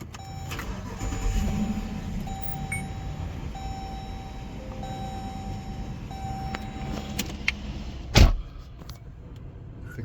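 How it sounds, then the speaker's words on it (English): A Dodge Durango's engine cranks and settles into a steady idle, with a sharp loud knock or door-like thump late on and faint cabin noises throughout. "let's start the vehicle"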